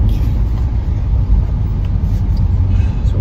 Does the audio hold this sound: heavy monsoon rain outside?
no